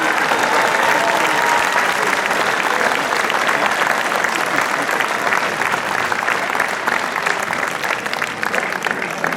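Sustained audience applause at the Vurberk 2022 festival award ceremony, a dense, steady, loud wash of clapping from a large crowd that holds for around nine seconds and eases slightly at the end.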